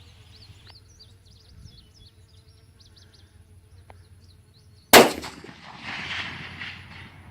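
A single sharp gunshot from a custom-built AR-10 rifle fired at a 500-yard target, cracking loudly after a quiet stretch of outdoor insect buzz, followed by a fading rumble and distant echo.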